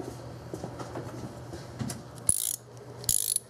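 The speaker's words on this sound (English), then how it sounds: "you get your torque wrench" A torque wrench tightening the thermostat housing bolts on a 2001 Oldsmobile Silhouette with the GM 3.4L V6: two short bursts of rapid ratcheting clicks, close and sharp, over faint shop background.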